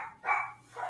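A dog locked inside an office gives two short, fairly close barks, the second a little softer, with no voices over them.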